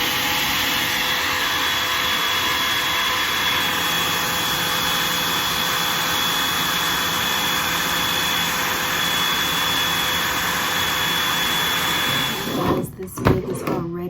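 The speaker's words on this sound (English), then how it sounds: "I'm gonna take my blow dryer and I'm gonna put it on low" A hair dryer on its low, cool setting blows with a steady, even whoosh and high whine, running continuously before cutting off with a few bumps near the end.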